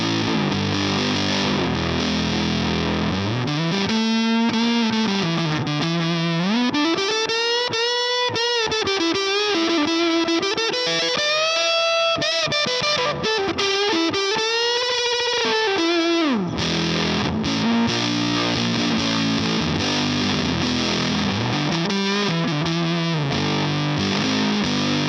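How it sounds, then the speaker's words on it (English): An electric guitar runs through a handwired Fuzz Face pedal with volume and fuzz fully up, giving thick, saturated notes and bends that sustain and slide, loud and alone with no talking. "So this is volume and fuzz cranked."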